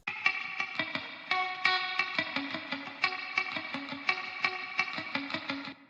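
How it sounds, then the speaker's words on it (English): Electric guitar played through an amp with heavy spring reverb, a rhythmic pattern of plucked notes ringing out with a splashy, echoing tail at moderate volume. "That spring reverb on that amp is going nuts!"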